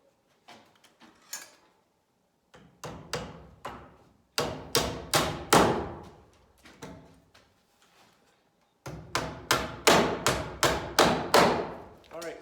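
A hammer drives nails to fasten a pocket door kit frame to wall studs: bursts of sharp, ringing blows in quick rhythmic series, growing louder as each nail sets, separated by quiet pauses.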